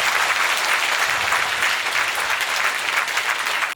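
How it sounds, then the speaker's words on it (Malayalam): An audience applauds Sri A. V. Anoop at a centenary interfaith conference and meditation hall dedication at Aluva Advaita Ashram, with loud, dense, sustained clapping from a crowd that stops abruptly. "നിങ്ങളെല്ലാവരും ചേർന്ന് ശ്രീ അനൂപ് സാറിന് നല്ലൊരു കയ്യടി കൊടുക്കണം"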